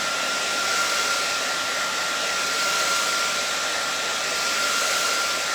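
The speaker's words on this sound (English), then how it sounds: "I got it on a hot dryer too." A hair dryer blows with a steady, loud, even whoosh and a faint high whine, running alone without interruption.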